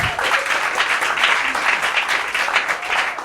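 A congregation at a church service applauding, with dense, sustained clapping from many hands filling the room at a steady level.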